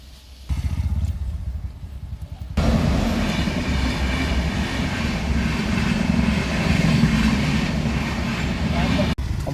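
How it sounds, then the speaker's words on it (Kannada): A train rumbles loudly and steadily past a railway level crossing for several seconds, a close continuous roar with rattling, and voices can be heard under it. "ಅಲ್ಲಿ ನೋಡಿ ಇವಾಗ ಟ್ರೈನ್ ಹೋಗುತ್ತೆ."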